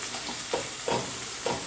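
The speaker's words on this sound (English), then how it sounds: "I'm frying onions." Steady sizzle of onions frying in a pan, with a few soft stirring scrapes over the constant hiss.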